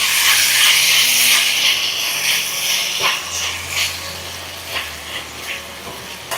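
Tomato ketchup and soy sauce are stirred into chicken sizzling in a hot pan, giving a loud, steady steamy hiss that slowly eases, with a few soft clinks of the spoon.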